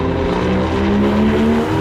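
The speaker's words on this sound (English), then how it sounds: "That is engine sound perfection." Intake noise from a Porsche 911 GT2RS engine, a loud, sustained droning roar with a steady rising tone, close and uninterrupted for the whole stretch.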